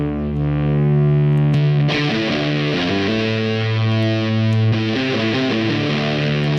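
An electric guitar runs through the Swanky Amp Pro amp-simulator plugin with heavy distortion, playing loud, sustained chords that shift every second or so and keep a dense, saturated buzz throughout, with no talking.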